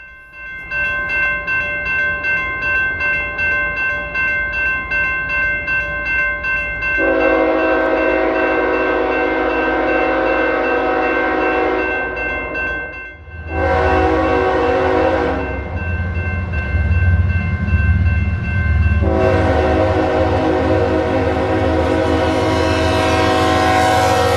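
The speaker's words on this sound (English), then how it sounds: "we would hear the sound of a distant K5HL, which would be for X203" A distant K5HL horn sounds on a southbound auto rack freight train out of Louisville, Kentucky, bound for Baldwin, Florida, blowing several sustained chord blasts over a steady rumble of passing rail cars.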